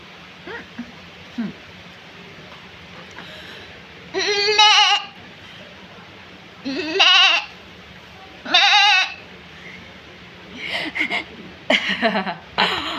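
A person imitates a goat bleating, giving several wavering, nasal bleats in separate bursts with quiet pauses between, then a quicker cluster of shorter bleats at the end.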